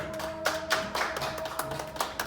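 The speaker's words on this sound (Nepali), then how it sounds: "ल फेरि जोरदार ताली उहाँको लागि" An audience at a ghazal competition prize ceremony claps in a short, uneven burst of applause, with louder swells of hand claps rising over a steady room tone.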